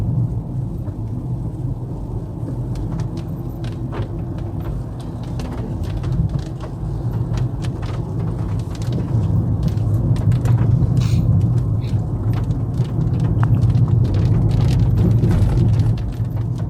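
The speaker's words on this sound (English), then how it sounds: "Started raining again." Steady rain at Mangalore International Airport, with low rumbling thunder, a loud continuous hiss and scattered drips, and faint bird calls and passing traffic in the background.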